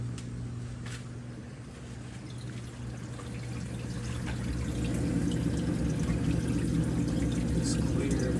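Water trickling into an aquarium sump from a clear line fed by a calcium reactor's pump, a soft steady splashing and dripping over a constant low pump hum that swells slightly louder toward the end.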